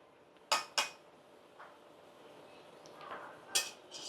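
A utensil stirs topse fish curry in a pan, giving a few sharp metallic clinks and scrapes close by, spaced out against a quiet background.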